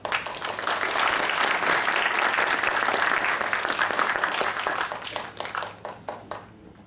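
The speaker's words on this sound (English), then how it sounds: "Let's have a round of applause" An audience at a university science conference applauds in a dense, sustained wave that thins out near the end into a few scattered, separate claps.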